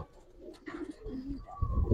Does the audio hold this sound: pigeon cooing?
yes